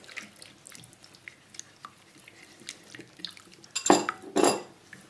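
Sugar and butter are stirred in a bowl for Swiss bread dough, with light scraping and clinks, then two loud close clanks of utensil against the bowl near the end.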